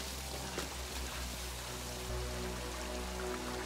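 Steady rain falling in a scene from the TV show Moon Knight, a constant wash of patter with a low rumbling underlayer, even and fairly loud throughout with no voices.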